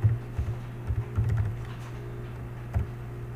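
Fingers typing a product name on a computer keyboard, a short burst of close, quiet key clicks in uneven rhythm with brief pauses, no talking.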